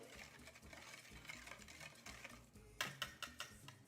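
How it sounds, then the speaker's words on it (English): Lemon chia oat muffin batter being whisked in a bowl, a steady close scraping and clicking that ends in a few sharp taps, with no talking. "We're whisking this away."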